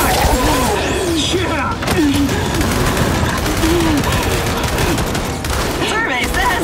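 Sustained heavy gunfire from a Gears 5 firefight, loud and continuous throughout, with voices shouting over it.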